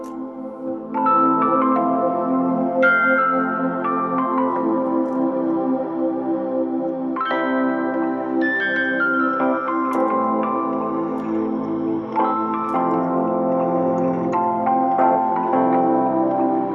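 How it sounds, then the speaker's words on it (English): A music track, a Swahili song played through a homemade pentode valve radio transmitter, with layered melodic tones and steady harmonic chords, plays continuously at a fairly loud, even level, with no voices over it. "This is just a track, a musical track"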